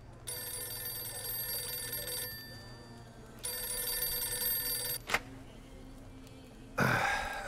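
Old-style telephone bell ringing in the Mafia II video game, two long loud trills separated by a pause, followed by a sharp click and a brief burst of noise as the receiver is picked up.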